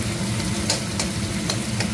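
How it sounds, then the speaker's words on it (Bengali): Onions fry in a pan for a meat dish, a continuous close sizzle broken by regular scraping strokes of a spoon stirring them, with no talk. "পেঁয়াজটা আমি একটু ভাজা ভাজা করে নিচ্ছি।"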